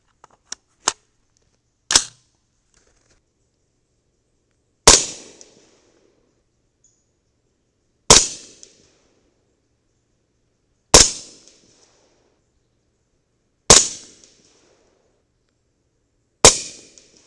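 Gunshots from a 300 Blackout CMMG with an 8-inch barrel firing 225-grain Hornady Match loads: several sharp, loud single cracks spaced a few seconds apart outdoors, preceded by a couple of small clicks.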